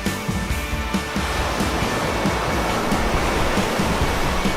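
Surf rolls steadily onto a deserted sandy beach at the mouth of the Swine in Świnoujście, a continuous broadband wash of breaking waves with no voices.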